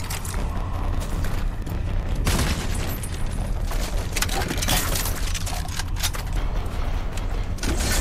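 Dense bursts of gunfire and booming impacts in the Rage 2 video game during a boss fight, loud and rapid shots crowding together with brief lulls between volleys.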